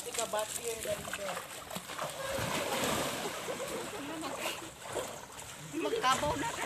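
Water splashes and sloshes as people bathe in a river, the splashing fairly steady and close, with voices talking over it throughout.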